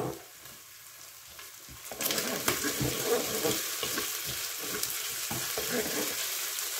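Broccoli and mushrooms brown in a Cookeo multicooker with a steady sizzle that grows louder after a couple of seconds, marked by scattered scraping stir sounds.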